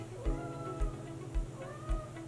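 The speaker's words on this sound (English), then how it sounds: "My cat is losing her mind." A house cat meows four times in an even rhythm, each call short and fairly close, with quiet room background in between.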